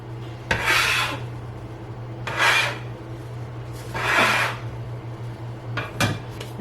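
Meatball mixture worked by hand in a bowl, giving a few separate wet, rasping squelches with pauses between, close up and fairly quiet over a steady low hum.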